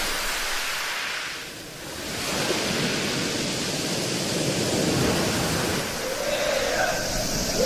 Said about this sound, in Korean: 콩처럼 작은 돌들이 파도와 함께 구르는 이곳 콩돌 해변